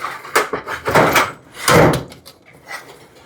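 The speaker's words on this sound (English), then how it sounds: "You come over to your toolbox, you open it up," A toolbox drawer is pulled open in a workshop, giving a few close, loud clattering slides and knocks with rattling metal contents, with no talking.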